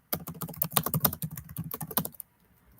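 Rapid clicking of keys on a computer keyboard as a message is typed into a chat, close and crisp, about two seconds of quick irregular taps before stopping.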